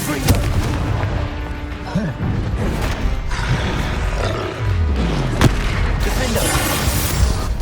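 Loud, dense booms and crackling blasts fill the whole span as a Confringo fire spell explodes in the Hogwarts Legacy video game, mixed with game music and sound effects.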